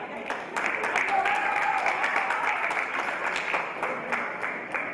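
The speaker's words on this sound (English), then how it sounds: "One more round of applause for these girls." Sustained applause at a powerlifting meet, a dense crowd clapping steadily for several seconds with sharp individual claps standing out and a voice heard faintly underneath.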